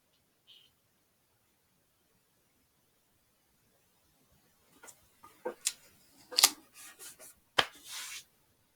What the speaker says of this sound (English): I'm going to tape the seams together